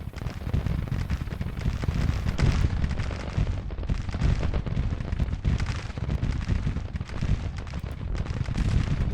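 Musket volleys and cannon fire roar through a Grand Tactician: The Civil War battle, a dense, continuous crackle and rumble of gunfire and explosions that runs unbroken throughout.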